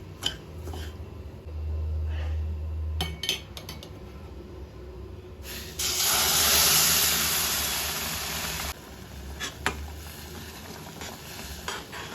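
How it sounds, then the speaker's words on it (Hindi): Boiled milk is poured into a roasted sheera mixture in a pan, giving a loud, sustained hiss and sizzle that swells for a few seconds amid stirring and utensil clatter. "अभी हमें जो बॉइल्ड मिल्क है वो इसमें ऐड"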